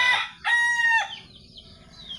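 A wild red junglefowl rooster that came out of the forest gives one close, loud crow, preceded by a short sharp call, with quiet rustling afterward and no talking.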